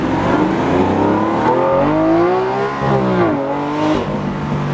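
A Lamborghini Aventador engine revs loudly during a passenger ride, its pitch sweeping up and down through gear changes in a steady, close, continuous roar.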